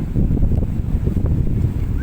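Strong gusting wind at Laguna de Bay buffets the microphone in a continuous low roar, with no talking.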